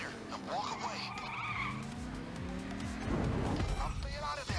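In the video game Payday 2, during a car shop heist, a car drives and skids with squealing tires and engine revving, continuous and fairly loud with a harsher burst near the end.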